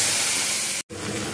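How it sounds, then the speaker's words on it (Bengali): A paste of ginger, chili and cumin hits hot oil with five-spice seeds, giving a loud, steady hiss and sizzle that breaks off for an instant before carrying on. "এবার তেলে এই মশলাটা আমি দিয়ে দেব।"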